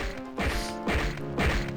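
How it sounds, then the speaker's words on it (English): Punch impacts from the retro first-person shooter Star Wars: Dark Forces, running on The Force Engine: three crunchy, thwacking hits spaced about half a second apart, loud and close over a steady game-music background. "that punching sound is so good"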